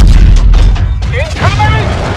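Aegis guns firing in a Call of Duty Infinite Warfare cinematic, heavy booming blasts and a deep rumble, loud and close, mixed with a spoken line of dialogue.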